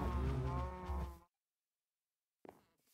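A cow in a Minecraft FTB modpack game lets out one long, loud, low moo, followed by a pause of silence and the brief start of another call.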